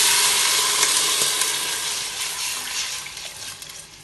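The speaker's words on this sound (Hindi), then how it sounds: "चिकन नहीं, पानी बॉईल हो रहा है" Water bubbles and hisses steadily in a cooking pot while chicken biryani is made, a continuous loud, bright wash of boiling noise with no talk.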